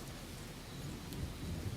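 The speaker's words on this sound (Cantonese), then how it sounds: "好大雨啊！" Heavy rain pours down in a dense, steady roar with a low rumbling undertone, loud and continuous throughout.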